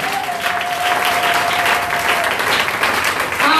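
Congregation clapping steadily in a church during a French-language service, a dense continuous wash of applause with a sustained tone hanging over it for the first couple of seconds.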